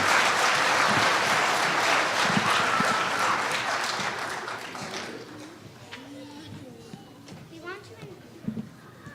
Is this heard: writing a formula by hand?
no